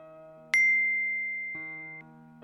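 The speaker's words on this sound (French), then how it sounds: "Nouvelle notification" Social media new-notification chime: a bright electronic ding that rings out and slowly fades, followed by softer tones over a steady background hum, no talk.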